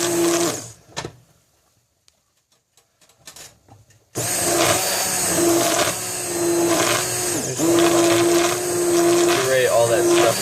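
A blender purees lobster bisque, starting abruptly after a few seconds of near silence and then running as a loud, steady whirring motor with a sustained hum and slight shifts in pitch as the contents churn.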